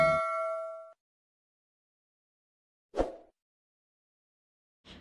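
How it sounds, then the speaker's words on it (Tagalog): A bright notification bell chime rings once and fades within a second, followed by two short soft plops or clicks spaced apart in silence. "don't forget to click subscribe and hit the notification bell to keep you updated"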